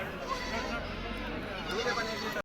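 Goats bleating at a live village goat market in Bharadi, a dense ongoing chorus of animals mixed with the crowd's murmur and chatter, loud and close throughout.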